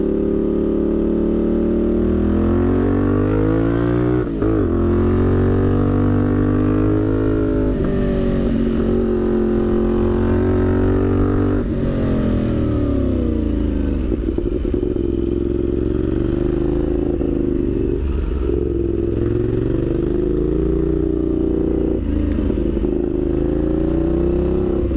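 A Benelli 752 750cc twin-cylinder motorcycle engine runs loudly and close, its pitch rising and falling through repeated revs and gear changes, with no voices.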